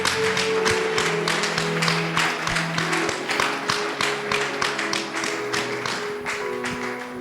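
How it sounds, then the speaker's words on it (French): A church congregation applauding during a worship service, dense steady clapping from many hands over a held musical tone, continuing evenly throughout. "On acclame pour le Seigneur."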